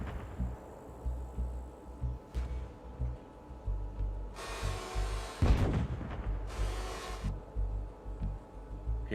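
Tank cannons fire in a tank simulator video game, sharp booming blasts with hissing bursts landing irregularly over a low rumbling engine idle, several shots at moderate distance.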